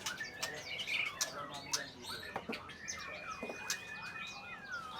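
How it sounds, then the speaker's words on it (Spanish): An endangered Sumatran songbird at an Indonesian animal market gives quick, faint chirps and whistled calls, with a thin sustained whistle midway, against a busy background of market chatter and scuffling. "es una especie bastante amenazada de Sumatra y es un pájaro precioso"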